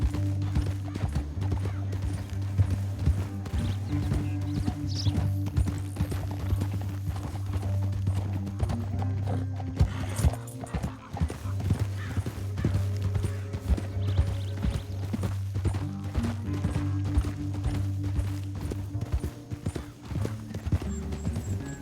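Steady clip-clop of horse hooves at a walking pace in Red Dead Redemption 2, continuous and moderately close, with faint talk now and then in the background.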